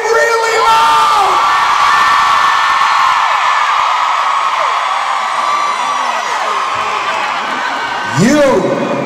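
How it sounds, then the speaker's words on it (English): A concert crowd at a show in Fort Lauderdale screams and cheers loudly and continuously, with shrill whoops rising over the roar throughout and a sharp yell near the end. "And you'd still know how to scream really loud?"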